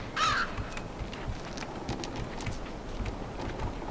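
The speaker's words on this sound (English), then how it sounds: "Does the bird even do anything?" A crow caws once near the start of the side-scrolling puzzle game Limbo, a brief harsh call over a dim, rustling ambient background with faint scattered ticks and no talking.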